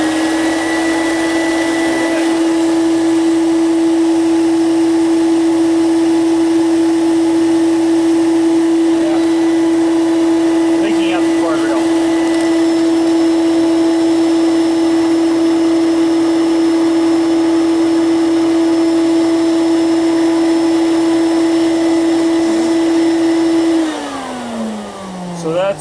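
An Electrolux Guardian Aerus Model 134 canister vacuum runs with a steady, loud, close motor whine and air rush, leaking air from the cord reel, then winds down as it is switched off at the end.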